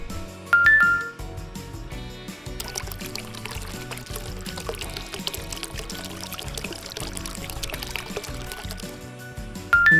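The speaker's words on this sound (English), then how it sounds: "just pour your resin into that" Resin poured into a bead mold for a craft necklace, giving a soft, continuous trickling and pouring sound with faint clinks, close and quiet throughout.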